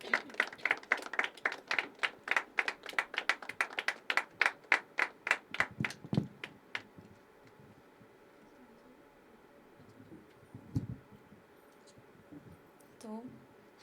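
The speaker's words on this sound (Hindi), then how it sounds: "तालियां, कम ऑन।" Rhythmic clapping from a poetry open mic audience, fairly close, that fades out after about seven seconds into a quiet room with a few faint voices and small noises.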